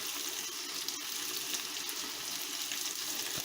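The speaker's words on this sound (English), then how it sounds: "While our onions are sauteing, look how beautiful they are, y'all." Sliced onions sauté in a pan for smothered liver and onions, giving a steady, even sizzle with faint crackles throughout and no talking.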